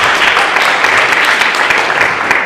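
An audience applauding at a district-wide school art show awards ceremony, dense, loud, continuous clapping from a crowd throughout.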